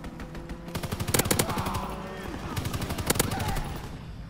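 Rapid bursts of automatic gunfire from a weapon in a World War II video game, with several clustered volleys of sharp cracks over a few seconds, interleaved with game sound effects and no clear talk.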